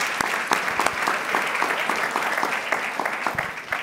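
Congregation applauding at a church service led by an apostle, dense continuous clapping with sharp individual claps standing out, close and steady throughout.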